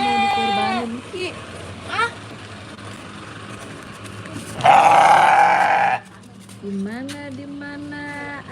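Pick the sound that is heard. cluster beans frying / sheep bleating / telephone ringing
sheep bleating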